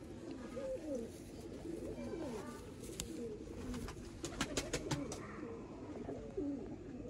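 Cross-bred topper pigeons coo in a loft, soft repeated throaty rolls close by with faint background rustle and a few brief clicks, no talking.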